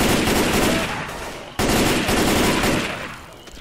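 Sustained automatic gunfire in Left 4 Dead 2 on the Swamp Fever campaign, a loud, dense, unbroken roar of shots with a brief gap partway through, close and fading slightly at the end.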